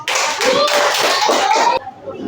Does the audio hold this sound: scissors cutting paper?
no